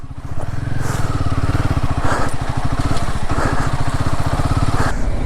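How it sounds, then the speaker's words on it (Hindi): A motorcycle engine thrums loudly and steadily up close on a broken road in Ladakh, its rhythmic putter rising and falling slightly as it rides along. "हमने उस ब्रोकन रोड पे अपनी मोटरसाइकिल्स चलाई हैं"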